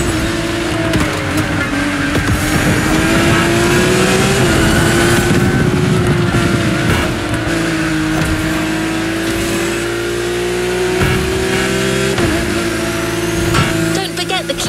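A Lamborghini engine roars continuously in The Crew Motorfest racing game, holding a loud, steady high-revving drone with small pitch swells and shifts throughout, with no break in the sound.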